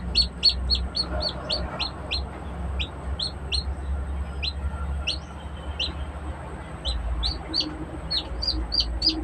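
A pet chick, just awake, chirps in a steady stream of short, high, sharp peeps, close and fairly loud, with a low hum underneath and a faint voice now and then.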